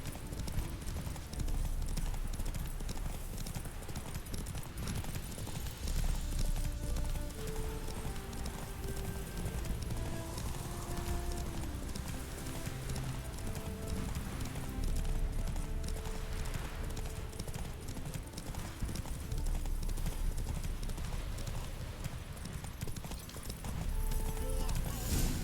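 Roach, a horse in the video game Witcher 3, gallops with continuous rhythmic clip-clop hoofbeats over a dense game soundscape, lasting steadily throughout without pause.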